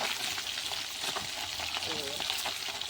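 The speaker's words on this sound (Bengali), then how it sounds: "চলো মাছগুলো ভেজে নিই" Steady hissing sizzle of food frying in a pan, with a few faint clicks and scrapes of a utensil, continuous and fairly close.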